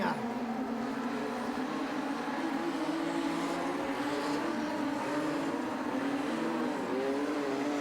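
Modified sedan race cars competing in a feature race at Cairns Speedway, a loud, continuous blend of engines roaring and revving at high pitch, with a commentator talking over the racing.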